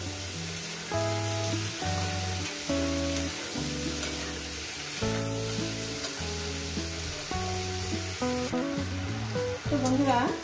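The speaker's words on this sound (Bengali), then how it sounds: "এটাকে আমি ভাজবো মিডিয়াম জাল।" Okra and shrimp fry in a pan over a medium flame, giving a steady sizzle with occasional stirring, close and fairly loud, under a bed of background music.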